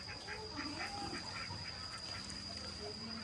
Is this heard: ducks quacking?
yes